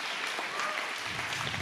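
An audience at a Toastmasters speech contest awards gala in Gdańsk applauds the finalists, steady clapping at moderate distance throughout.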